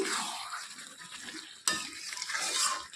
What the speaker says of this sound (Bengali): ঢাকনা খুলে আবার একটু নেড়ে চেড়ে দিচ্ছি